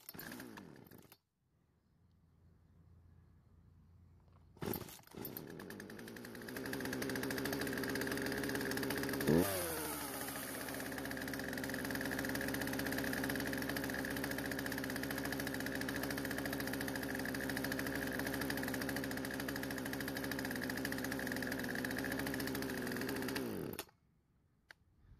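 A small engine with a cracked primer bulb turns over after a short pull and catches. It revs up sharply once, then settles into a loud, steady running drone before cutting off abruptly at the end.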